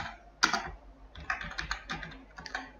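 Keys clatter on a computer keyboard in short bursts of quick taps, close and fairly crisp, with brief pauses between groups and no talk.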